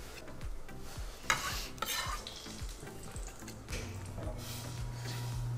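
Mashed garlic goes into a pan with milk and butter, stirred with a utensil: soft squishing and scraping, light bubbling and occasional knocks against the pan, close and fairly quiet.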